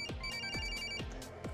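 A telephone rings in the horror video game Corpse Party, a repeating electronic ring with regular bursts about half a second apart, clear and upfront.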